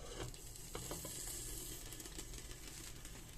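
Eggs cooking on top of soft asparagus in a home frying pan give a steady, close sizzle and hiss throughout, with a few faint clicks and no talking.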